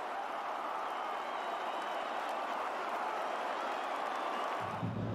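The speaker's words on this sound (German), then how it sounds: "Kurzer Applaus" Brief applause from a football press conference audience, a steady dense wash of clapping that fills the whole stretch at moderate distance, fading out near the end.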